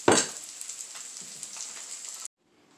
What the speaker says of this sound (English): I'm just waiting for my egg to fry up and the cheese.